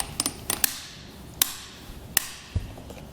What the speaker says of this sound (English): We should get a couple clicks with our tool here.